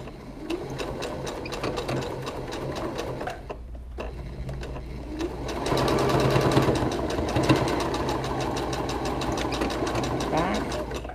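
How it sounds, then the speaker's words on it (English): A sewing machine stitches through face mask fabric and cording with a rapid mechanical chatter, pausing briefly, then resuming louder and denser, with a voice speaking over it. "I'm going to sew through all the material and the cording, which is what keeps it secure."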